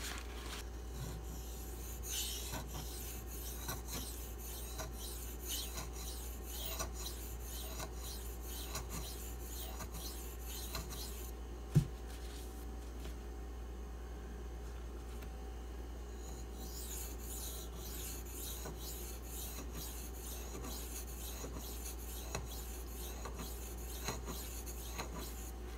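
A Spyderco Manix 2 knife is drawn across a Pride Abrasives 8K stone in steady, even, close strokes, with a continuous rasping rub, one brief break midway and a single sharp tick.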